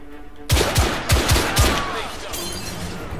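Gunfire in the video game The Order: 1886 cracks out in a quick burst of several loud shots, followed by lingering echoing reverb and debris.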